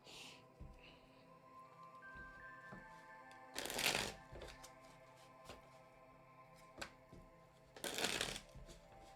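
Oracle truth cards shuffled by hand, soft continuous riffling with two louder bursts of riffle, close and quiet, under a faint steady background hum and no talk.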